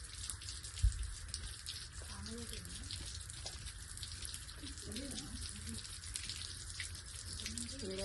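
Tap water runs steadily over a dog bite wound as it is rinsed, a continuous close splashing wash under faint background talk.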